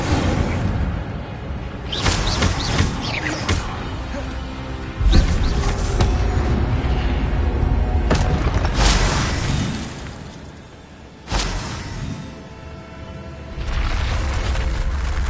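Spell-casting effects from the Hogwarts Legacy video game land in a series of loud booms, bursts and swooshes at irregular intervals, with a continuous rumbling bed between the impacts.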